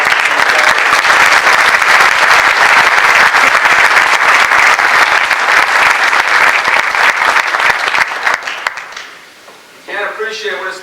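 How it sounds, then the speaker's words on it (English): An audience at a basketball coaching event applauds for a coach, loud dense clapping from a large crowd that holds steady, then tapers off near the end as a voice begins speaking. "Judd, could you at least stand up and take a little round of applause?"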